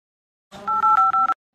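A telephone number is punched in as a quick run of about five tonal keypad beeps. The beeps are clear and evenly spaced and stand alone after a moment of silence.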